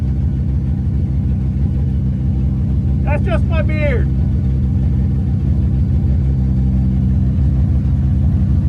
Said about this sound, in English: I'm going for a ride in the skid car